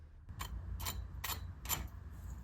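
Four crisp, crackly crunches of a fried lamb chop crust come at an even pace, close and quiet over a low background hum, with no voices.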